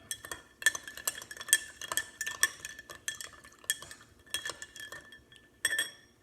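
A spoon stirs a cocktail over ice in a glass, making bursts of bright clinks and rattles in an uneven rhythm, close and fairly quiet.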